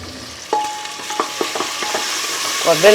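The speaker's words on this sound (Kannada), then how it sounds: "ಈ ಎಣ್ಣೆ ಮಾಮೂಲಿ ಸಾಸಿವೆ, ಈರುಳ್ಳಿ, ಕರಿಬೇವಿನ ಸೊಪ್ಪು ಎಲ್ಲ ಒಗ್ಗರಣೆಗೆ ಹಾಕಿ" Mustard seeds, onion and curry leaves sizzle in hot oil for a tempering, giving a steady close frying hiss with scattered sharp crackles and pops, and a brief stir near the end.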